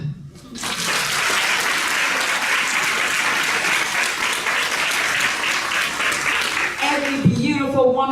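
Women in an audience at a book talk break into sustained, loud applause that fills the room, with a voice speaking briefly near the end.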